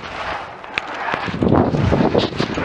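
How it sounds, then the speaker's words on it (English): Wind gusts across the microphone during a long-distance bike ride on a windy day, a continuous rumbling buffet with louder surges toward the end and no talking. "It's a windy day, but I've got the breeze behind me for now."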